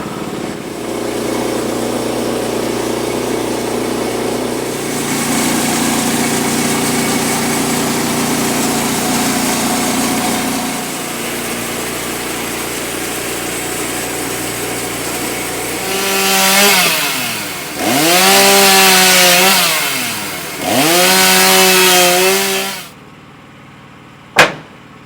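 Woodland Mills HM122 sawmill's small engine running steadily through a log cut, then revving up and down in several loud surges before cutting off with a final clunk.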